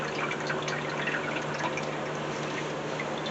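Transmission fluid drips and trickles steadily from a 1999 Mercury Grand Marquis with its transmission pan removed, a close, dense patter of liquid falling into a catch pan.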